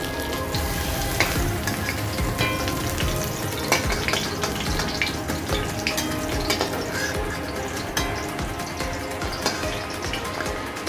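Pointed gourd frying in oil in a pan, a continuous loud sizzle with crackling pops and occasional stirring clatter, close and alone without talk.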